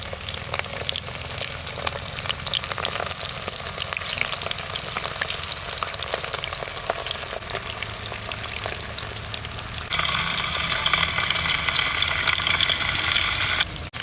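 Prawn pieces spread out in hot oil in a wide pan, a loud steady sizzle throughout that turns brighter and more crackling toward the end, with no talk.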